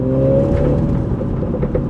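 A 2019 Mini John Cooper Works engine revs loudly up close, a deep droning rumble with rising tonal exhaust notes, steady and without voices.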